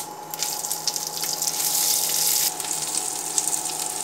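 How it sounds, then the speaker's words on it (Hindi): Chopped onion with a couple of bay leaves and cumin seeds frying in a pan for an Indian potato, cauliflower and pea dish, a steady close hiss and sizzle with soft crackles throughout, no talking. "प्याज को थोड़ा भूनना है देखिए प्याज भून चुका है"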